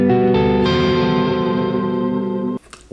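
A sustained major 9 chord with an added 11th rings out on an effects-laden keyboard or synth for about two and a half seconds, loud, dense and clashing, then cuts off into a brief tail.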